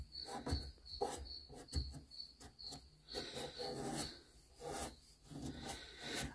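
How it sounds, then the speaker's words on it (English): A dry rag rubs and wipes excess glaze off sealed, hand-painted furniture with transfers, giving repeated scratchy strokes in a steady back-and-forth rhythm, close and fairly quiet, with no talking. "remove the excess glaze using my dry rag first"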